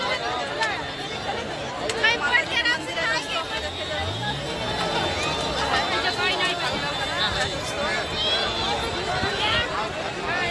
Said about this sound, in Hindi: सब लोग अपना मेला यहाँ देखने आए हैं। बहुत ज़्यादा भीड़ है